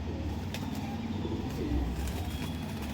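A Pakistani Teddy highflyer pigeon brought from Punjab gives soft, low coos over a steady hum of background noise, fairly faint and with no voices.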